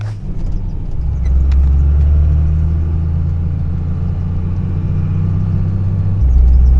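A 1998.5–2002 Dodge truck with a Cummins 24V diesel and new injectors drives along, its low engine rumble and drone loud and steady inside the cab, with no talk.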